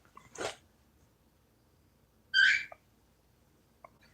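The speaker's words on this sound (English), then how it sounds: "See that bird got quieter" Two short bird calls stand out against a quiet background, one near the start and a brighter one later, with a faint chirp at the end.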